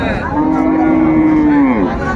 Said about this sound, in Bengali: এটা হচ্ছে গাভী, এটা হচ্ছে বাছুর।